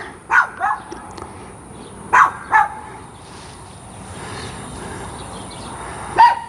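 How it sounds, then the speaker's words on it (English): Dogs bark in short separate bursts: a double bark near the start, another pair around two seconds, and a single bark at the end, with quiet background between. "My dogs are saying hi."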